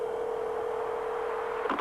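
Cellular car phone in a Lexus Coupe gives a single steady dialing tone that holds for over a second and a half, then breaks off into a brief burst of different tones, with no talking.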